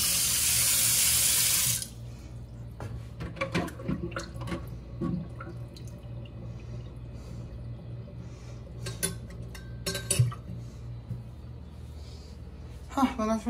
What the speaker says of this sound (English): You have a faucet.